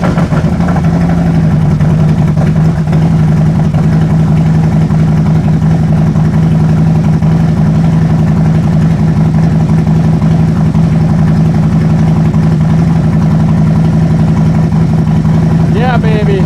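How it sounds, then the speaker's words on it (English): A 2019 Harley-Davidson Road Glide with a bad voltage regulator idles loud and close, a steady low rumble holding an even pitch throughout with no talk over it. "Now, when I start the bike, it should go up to 13 and almost 14."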